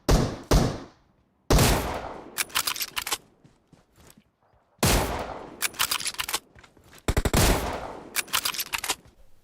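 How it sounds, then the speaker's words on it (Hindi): Sniper rifle fire at bots in a shooting video game, sharp loud shot bursts separated by silent gaps, some in quick rapid clusters, with clicks and thuds between. "लेकिन तब तक यार बॉट तो पेल दूं ये स्नाइपर से"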